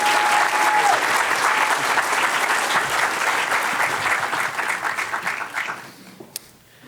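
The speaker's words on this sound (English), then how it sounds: "One more round of applause for Ignacio." Audience applause fills a thesis competition hall, dense steady clapping that holds loud for about five seconds and then thins out and fades to near quiet.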